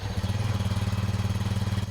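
A motorcycle engine idles steadily with a low, throbbing pulse that repeats rapidly and evenly, close by and fairly loud, with no voices.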